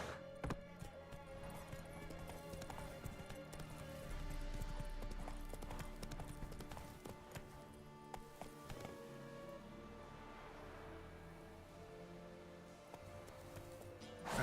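A horse's hooves clip-clopping at a rhythmic gallop in The Witcher video game, a steady run of hoof beats with a brief faint whinny, quiet and continuous.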